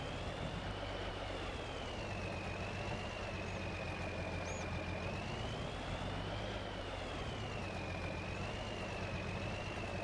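A tractor towing a bale trailer in the video game Farming Simulator 22 drones with a steady engine rumble and a faint wavering whine, constant and distant-sounding, with no talking.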